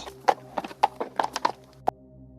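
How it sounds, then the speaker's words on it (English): Hooves of horses pulling a coach clip-clop in a quick, uneven run of sharp, fairly loud hits, with about six clear strikes over a steady low hum before falling silent. "a spectral coach drawn by headless horses"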